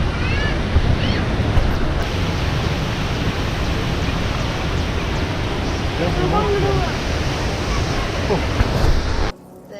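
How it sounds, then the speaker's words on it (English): Athirapally waterfall on the Chalakudi River in Kerala roars as a steady, dense rush of falling water close by, continuous for the whole stretch before cutting off abruptly at the end. "So finally we reach to the waterfalls."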